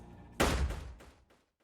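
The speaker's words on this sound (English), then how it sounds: "That very second, I hear an explosion sound." An explosion sound effect in a visual novel game bursts out suddenly as a loud, booming blast, then decays with a rumbling tail over about a second.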